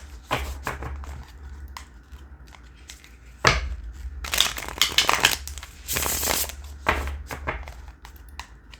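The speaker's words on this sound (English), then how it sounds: "Gotta shuffle again." Tarot cards being shuffled by hand at a reading table: a series of crisp riffling and rustling bursts, close and fairly loud, with short pauses between shuffles and no talking.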